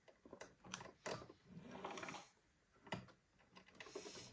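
Sewing machine zigzag-stitching strips of lace together, the needle running in short mechanical bursts with brief pauses, fairly close and alone without talk.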